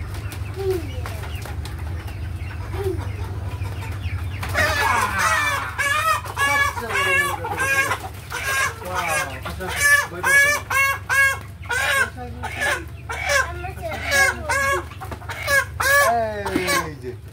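Chickens cluck in a close, busy run of repeated calls that grows denser and louder after a quieter start, with a low steady hum underneath.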